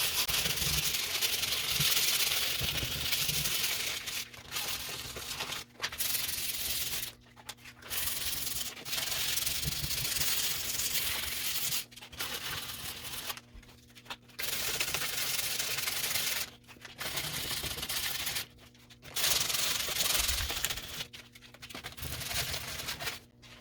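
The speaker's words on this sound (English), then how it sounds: "So I'm going to go ahead and sand these down." Steady scratchy rubbing as kitchen cabinet doors are sanded by hand, long strokes repeating in bursts with brief pauses between, close and fairly loud with no talk.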